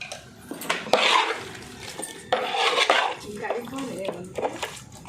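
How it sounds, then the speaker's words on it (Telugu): Ghee being stirred into a large pot of chicken dum biryani mixture for a 40-plate order, with repeated metallic scraping and clanking of a utensil against the pot, moderately loud and close, with faint background voices. "నెయ్యి కూడా కొంచెం అయితే ఇప్పుడు వేసి కలుపుతున్నా"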